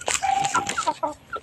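Chickens clucking close by, a run of short, bright clucks and squawks overlapping one another with no talking.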